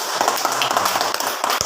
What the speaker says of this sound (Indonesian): tepuk tangan dulu untuk Angga